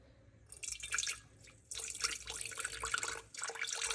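Water pours into a container on a kitchen scale for a sourdough starter, coming in close, splashy bursts with brief pauses between them.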